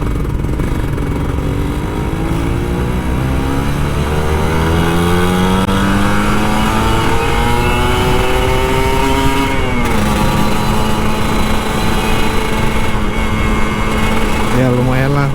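A 150cc two-stroke Kawasaki Ninja RR motorcycle ridden at night in Jakarta traffic on light throttle, its engine note climbing steadily through rising revs, easing briefly, then holding a buzzing drone up close, with talk over it.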